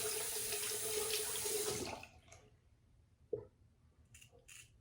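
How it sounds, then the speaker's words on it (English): A vintage Gem safety razor rinsed under a running tap, a loud close gush of water for about two seconds that cuts off, followed by a small knock and faint drips. "Definitely have to rinse this one more."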